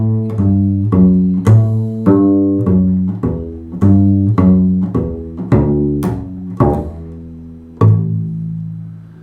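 Plucked electric bass plays the bluegrass melody "Arkansas Traveler", several notes sliding smoothly into one another with legato hammer-ons and pull-offs, close and clear, no voices.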